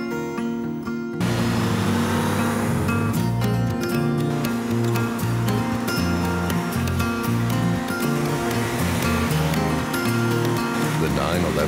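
Porsche 911 Carrera engine and road noise from a TV commercial, a steady rumbling drive that kicks in abruptly after a quiet start and runs on continuously, with tonal layers and possible music mixed in.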